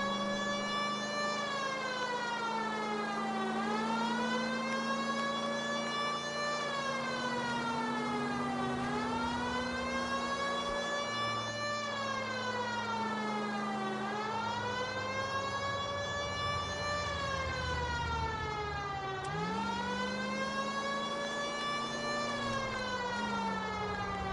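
A police car siren in the video game L.A. Noire wails in long rising and falling sweeps, loud and continuous over a low engine drone, with no speech.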